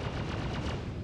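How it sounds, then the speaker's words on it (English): Gunfire aimed at a ship in the space game Star Citizen, a short dense burst of rapid, loud crackling shots with no talking. "They're shooting you."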